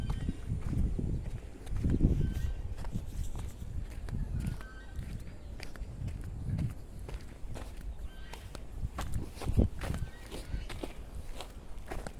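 Footsteps of a person walking outdoors toward a pond, a steady run of moderately loud steps with occasional heavier thuds, heard alone without talk.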